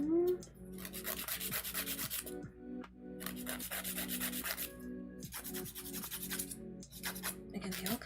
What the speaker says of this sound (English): At least they're short, so filing doesn't take too long.